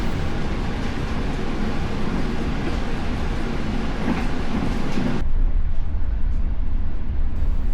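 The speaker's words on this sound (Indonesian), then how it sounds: "kereta api Bangunkarta sebentar lagi akan mendekati stasiun Solo Balapan" The KA Bangunkarta train rolls through the small Kemiri station, heard from on board as a loud, steady rumble and rush of wheels on track that turns muffled and deeper partway through.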